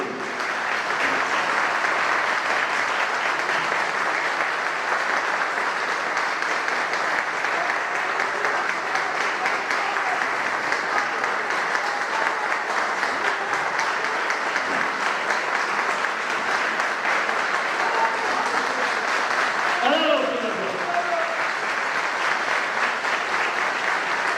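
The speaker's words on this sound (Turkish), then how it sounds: "yüreğinizden kocaman bir alkış istiyorum" A packed party congress audience of the CHP in Turkey gives sustained, loud, even applause that rolls on without a break for over twenty seconds, with a brief voice rising out of it near the end.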